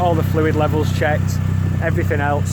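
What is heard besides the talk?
Mitsubishi Lancer Evo 6 exhaust idling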